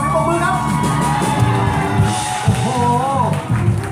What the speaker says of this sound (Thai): ท่านผู้ชมขอเสียงปรบมือครับ